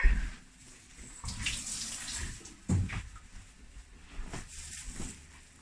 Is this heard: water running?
yes